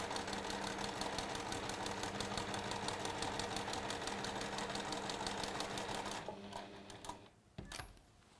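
A sewing machine chain-pieces quilt block pieces with fast, even stitching that runs close and steady for about six seconds. The stitching then stops, followed by a few faint handling clicks and fabric rustles.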